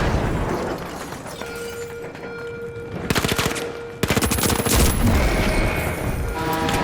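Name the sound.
frag grenade explosion and gunfire in the video game THE FINALS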